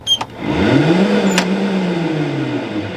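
A golf cart with a suspected differential fault whirs up under load while climbing a hill, producing a steady, rising-and-falling mechanical drone after a couple of brief clicks.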